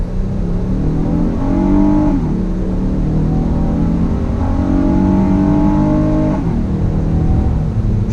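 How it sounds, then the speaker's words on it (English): A 2019 Honda Ridgeline V6 pickup pulling away from a dead stop, its engine note climbing through gears in two clear shift cycles, heard loud and steady from inside the cabin with no talk. "from a dead stop, I get on the gas."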